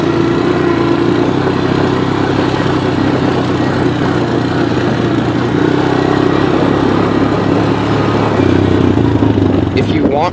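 A two-wheel drive quad four-wheeler crawls up a dirt pile in first gear, its engine a steady close chugging drone with a slight rise in effort near the end, while a person talks over it.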